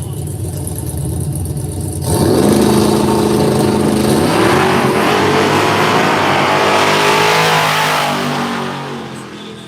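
True Street drag racing cars launching down the lanes, a loud close engine roar that rises sharply as they accelerate, holds strong, then fades away toward the end.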